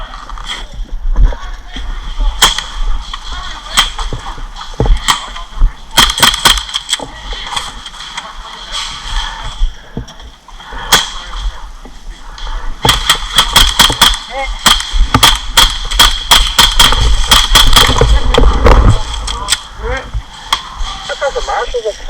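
Airsoft gunfire from an HPA AAP01C replica during a village attack game: close, sharp shots come singly and in rapid volleys over a noisy outdoor background, with players shouting now and then.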